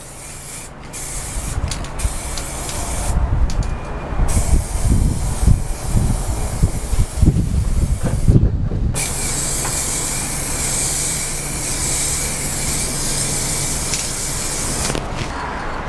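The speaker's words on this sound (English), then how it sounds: "I'm just going to give it a quick spray with some black paint" An aerosol can sprays black paint onto a car floorpan, several short hissing bursts followed by one long continuous spray, close and fairly loud.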